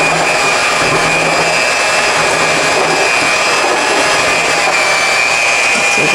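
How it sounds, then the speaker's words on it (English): An electric hand mixer whirs loudly and steadily as it beats carrot cake batter, a continuous close motor hum that holds for the whole stretch. "I'm gonna use my mixer"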